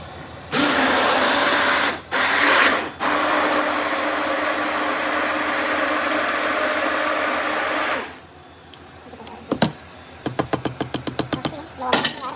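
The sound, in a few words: blender blending sautéed onion, garlic and tomato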